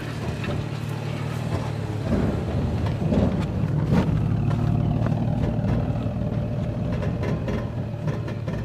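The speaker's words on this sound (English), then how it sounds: "Crawl control is on. You can hear the systems activate. ABS." A 2014 Toyota 4Runner crawls over an off-road obstacle with crawl control and ABS working, giving a steady low engine drone with rough, pulsing mechanical rumble that swells slightly midway, close and continuous.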